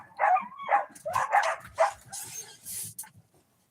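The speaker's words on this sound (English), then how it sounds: "I can't yell over the dogs all the time" Several dogs and puppies outdoors bark, yip and whimper in quick, irregular bursts, sounding fairly close, with the noise trailing off into quieter yelps.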